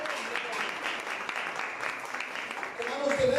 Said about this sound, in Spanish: Fuerte el aplauso para nuestro Señor.